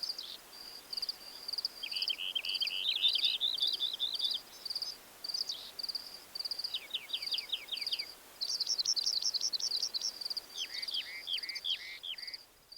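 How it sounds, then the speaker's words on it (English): Northern house wrens sing at the edge of a cottonwood forest, their bubbly, rapid trilled phrases repeating in bursts over a faint background hiss, moderately distant with brief pauses between songs. "The northern house wrens have begun singing by the time I reach the edge of the cottonwoods."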